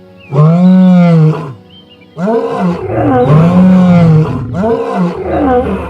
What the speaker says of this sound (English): he let out a resounding roar echoed by the Pride members